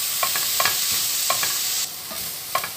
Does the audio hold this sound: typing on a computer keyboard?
no